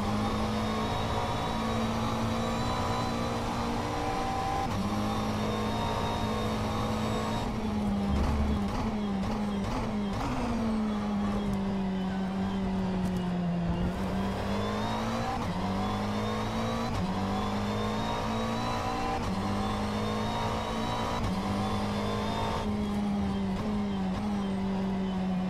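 A McLaren race car engine lapping Le Mans in the rFactor 2 video game, heard as a loud, continuous, close engine note whose pitch climbs and drops repeatedly through gear changes and braking.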